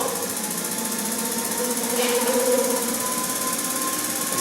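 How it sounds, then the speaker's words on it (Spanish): Continuous mechanical drone of a simulated combustion engine on an Elwe Motronic fuel injection training rig, a steady buzzing hum with a faint tonal whine, close and unbroken for the whole stretch. "ahí tenemos ya el motor funcionando"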